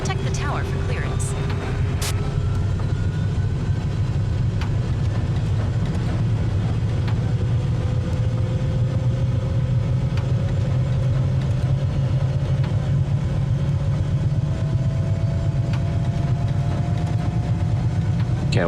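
A helicopter engine and rotor spin up in Microsoft Flight Simulator 2020, a loud continuous low drone with a slowly rising whine as the rotor gains speed, with talk over it.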